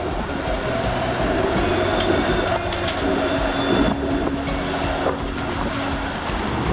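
A subway train rumbles steadily at Yonge and Queen Street, its loud continuous roar layered with rail hum and occasional squeals and clatter.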